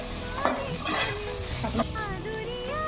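Greens with turmeric and green chilli sizzle in a pan as a spatula scrapes and stirs in several distinct strokes, close and steady, with a faint high whistle-like tone at times.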